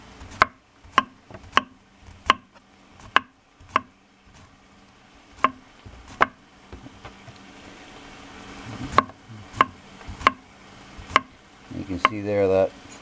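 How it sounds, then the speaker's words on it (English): A knife chops cucumbers into thin wheels on a cutting board, giving sharp, evenly spaced knocks at about two per second, pausing briefly before resuming, with faint background noise between the strikes. "I just chop up cucumbers in little wheels"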